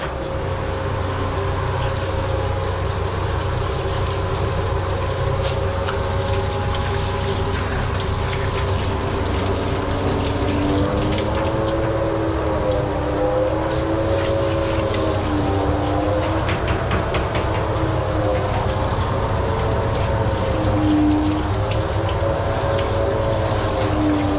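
Water drains and runs steadily while a dog is rinsed during a bath: a loud, continuous rush with a low mechanical hum underneath and no pauses.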